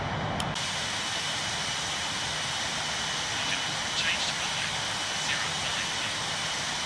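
Broad steady jet roar and hiss from an airliner's engines during the takeoff roll out of London Heathrow, a constant wash of noise with faint cockpit callouts and voices beneath it.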